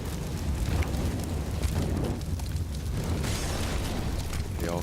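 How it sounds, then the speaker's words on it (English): A grenade blast in Counter-Strike on the Cobblestone map during an esports match makes a heavy booming burst, followed by a sustained rumbling wash of game noise. "The nade's going to go over, the smoke will goes out"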